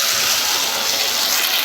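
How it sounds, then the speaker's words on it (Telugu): A glass of water poured into a pan of roasting rice, a steady loud gushing, hissing rush of liquid that continues without a break before stopping abruptly. "ఇప్పుడు మనం ఇందులోకి చూడండి ఒక గిలాసు నేను వాటర్ వేసుకుంటున్నాను"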